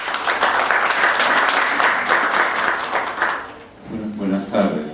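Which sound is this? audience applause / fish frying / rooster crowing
audience applause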